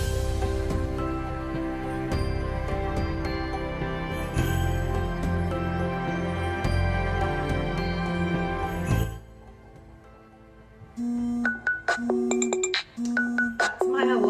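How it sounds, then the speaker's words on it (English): A phone alarm reminding its owner to prep medication, heard as repeated bright electronic beeping tones in short bursts, entering after a stretch of loud background music fades out. "That's my alarm to let me know to get my meds prepped"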